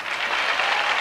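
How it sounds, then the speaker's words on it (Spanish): Brief burst of audience applause at a music album presentation, a dense, loud wash of clapping lasting only about a second. "Y un aplauso porque llegamos."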